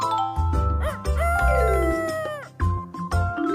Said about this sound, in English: Mr. Rooster crows to wake everyone up at day.